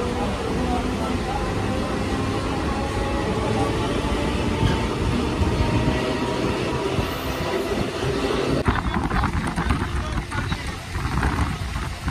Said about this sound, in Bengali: ঘড়িতে 7:55 বাজতেই 2 মিনিট লেটে আমাদের ট্রেন কিন্তু ছেড়ে দিল শিয়ালদা থেকে।